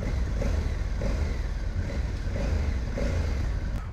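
A 2021 Honda Africa Twin motorcycle ridden on a race track gives a steady, loud engine drone mixed with wind rush, holding an even level throughout with no talking.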